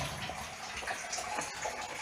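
Mains water pouring steadily into a storage tank during a Grundfos booster pump installation, a continuous broadband rushing splash held at an even level throughout with no pauses.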